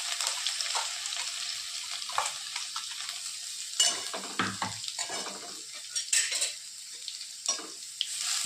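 Cumin, mustard seeds, curry leaves and crushed ginger-garlic sizzle in hot oil in a pan, with a steady frying hiss broken by repeated scraping stirs and spoon clinks.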